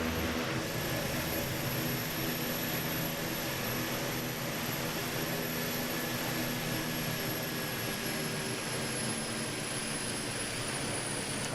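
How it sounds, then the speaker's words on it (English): A Boeing 737-8 MAX in Microsoft Flight Simulator gives a steady, continuous jet engine roar with a high turbine whine running throughout, loud and unchanging. "I love the sound of this plane though."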